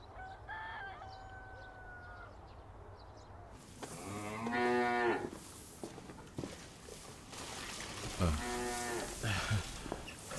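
Cattle moo inside a cow barn, with several deep, drawn-out calls rising over a low ambient hum and a rooster or other fowl faintly audible in the background.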